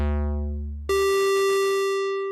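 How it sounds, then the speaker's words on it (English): A software synthesizer sounds a sustained buzzy square-wave tone after a short lower tone, steady and loud with bright harmonics, alone without talk. "if you shorten the other ramp, you get a square wave"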